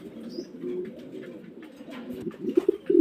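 Pigeons coo softly and repeatedly at close range, low throaty rolling calls with a few louder coos near the end, no talk.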